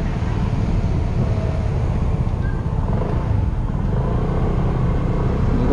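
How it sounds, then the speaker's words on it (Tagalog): A Sym Husky 150 ADV motorcycle on a test ride, its engine droning steadily under heavy wind rush throughout, with no clear revs standing out. "Ganda ng hatak ng motor niya."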